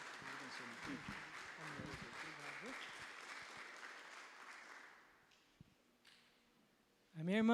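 A church congregation applauds at a Portuguese-language evangelical service, steady massed clapping that fades out after about five seconds, followed by a brief near-silence before a voice begins speaking.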